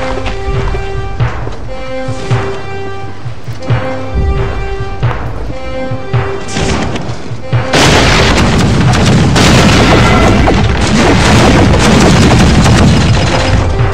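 Missile explosions in a Pirate Core naval PvP battle: after a stretch of game music, a dense, loud barrage of booming blasts erupts and keeps going to the end.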